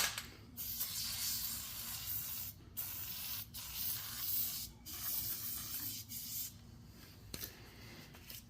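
Fluid Film lubricant sprayed from a nearly empty aerosol can onto rear brake parts of a Chrysler 200, a steady hiss in several bursts with brief pauses between them.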